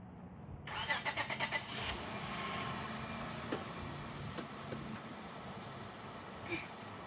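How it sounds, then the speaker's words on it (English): A 1999-2004 Honda Odyssey engine cranks with a quick burst of rapid starter pulses, then catches and settles into a steady idle hum, close by with no talking. "now I'm gonna start the car"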